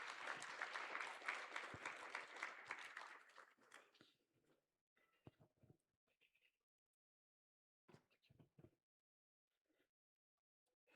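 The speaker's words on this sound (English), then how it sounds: "A round of applause, everybody." Audience applause at a graduation dinner and awards ceremony, a dense loud burst for about four seconds, then fading into scattered claps and faint shuffling footsteps with quiet gaps.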